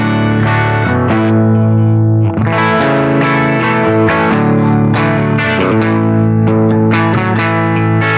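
Electric guitar through a Boss GX-10 overdrive and distortion patch plays thick, saturated chords and riffs with sustained notes and rhythmic changes, loud and close with no talking.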